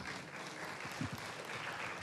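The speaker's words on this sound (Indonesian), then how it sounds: "Tepuk tangan untuk kedua narasumber kita." Audience applause for two guest speakers at an indoor talk on battery waste processing and electric cars, a steady wash of clapping from a crowd with no voices over it.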